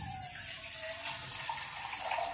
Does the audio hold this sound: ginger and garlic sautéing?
no